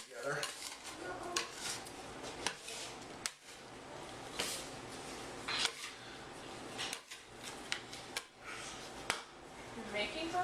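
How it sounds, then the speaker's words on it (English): A bench scraper gathers handmade pasta dough on a work surface in a home kitchen: quiet, irregular scrapes and clatters in short bursts, with a voice speaking between them. "I like to use a bench scraper to kind of keep everything together."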